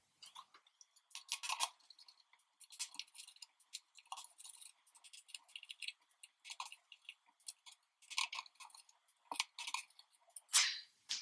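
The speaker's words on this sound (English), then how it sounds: "we're going to take our 2mm hex screwdriver and unscrew the top plate of our frame." A 2mm hex screwdriver backs out the screws holding the top plate of a drone frame, giving small, close clicks and ticks in quick irregular bursts with no talking.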